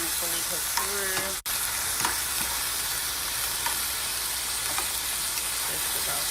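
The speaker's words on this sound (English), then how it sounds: "Let's see that thing is frying real nice." Food fries in a non-stick pan with a loud, steady hiss and crackle throughout. A brief voice is heard near the start, and one short dropout interrupts the sizzle.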